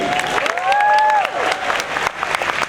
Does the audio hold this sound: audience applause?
yes